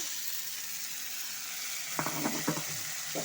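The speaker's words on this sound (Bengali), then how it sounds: "এখন দিয়ে দিচ্ছি সেদ্ধ করে রাখা মটর আর কাবলি ছোলাটা" Boiled peas and chickpeas fry in a pan with a steady, bright sizzling hiss throughout. A few scraping stirs sound partway through. The sound is close and moderately quiet, with no talking.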